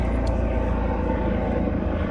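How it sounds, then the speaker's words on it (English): A helicopter passing overhead outdoors, a steady engine and rotor drone that holds at an even loudness throughout, with no voices. "that's a helicopter, dude."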